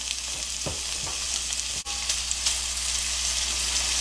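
Steady, close sizzling of pork and bacon frying in a preheated skillet, a bright continuous crackle with a few soft clinks of a utensil.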